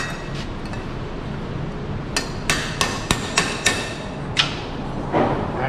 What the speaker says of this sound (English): Where'd my Welder hammer go?